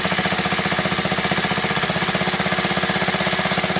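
A Honda Z50A motorcycle engine runs steadily and loudly up close with a fast, even, rattling putter, its rough idle stumbling slightly throughout.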